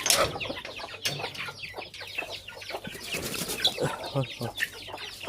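Several chickens cluck and chatter nearby in a busy, uneven stream of short calls, with a few louder squawks mixed in.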